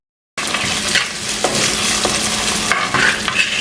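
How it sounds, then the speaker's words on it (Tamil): Green chilies and curry leaves sauté in a hot pan, a steady close sizzle with stirring scrapes throughout, no voices. "இதை மிக்ஸ் பண்ணி போட்டு 2 நிமிஷம் வதங்க விடுவோம்"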